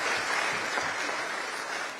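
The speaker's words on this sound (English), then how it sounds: "Let's give them a round of applause." Crowd applause for coalition partners at an Oakland mayoral candidates' live debate, steady dense clapping filling the hall for about two seconds.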